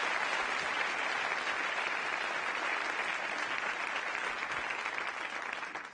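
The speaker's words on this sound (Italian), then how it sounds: "Fate un applauso alla Roberta." A theater audience applauds a comedy show performance, with dense steady clapping from a crowd that holds for several seconds and then begins to fade at the end.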